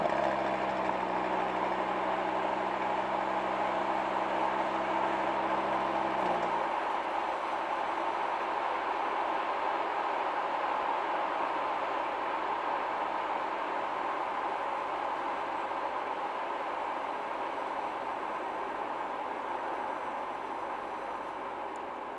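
A steady Audi TT RS engine drone runs throughout, a low idling rumble that shifts into a rougher, broader running tone partway through, continuous and close.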